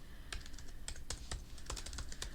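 Typing on a computer keyboard, a quick uneven run of light clicking keystrokes heard close and alone against a faint background hiss.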